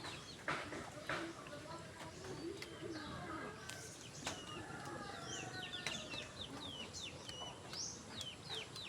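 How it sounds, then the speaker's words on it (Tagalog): Pet chickens clucking faintly after a typhoon, their soft calls mixed with scattered bird chirps and low background noise over about nine seconds. "kawawa naman yung mga alaga nating manok. Umiyak sila dyan"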